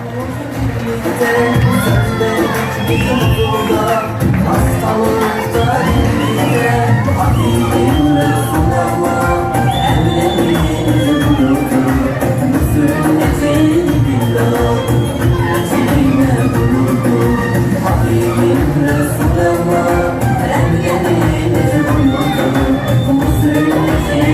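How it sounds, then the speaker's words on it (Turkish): Wedding guests at an Islamic wedding celebration in Adana cheer and shout as the couple cuts the cake, a loud, dense crowd din that continues without pause. "güzel çiftimiz aşkla ve heyecanla pastalar keserken onlar için şöyle kocaman bir alkış istiyorum lütfen"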